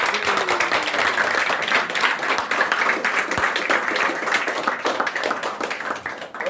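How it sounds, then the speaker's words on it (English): Sustained audience applause at an award ceremony, dense even clapping from a large crowd that holds steady and loud throughout without any talking. "give her a resounding round of applause"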